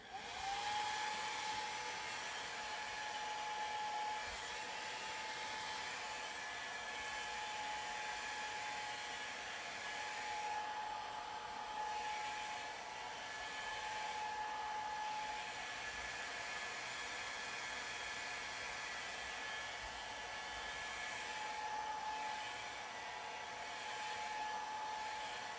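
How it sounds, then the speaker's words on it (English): A hair dryer runs steadily and loudly for the whole stretch, blowing on wet paint on a Star Wars Legion Endor Trooper miniature base, a constant airy whoosh with a faint whine and no talk. "So I'm just going to grab the hairdryer."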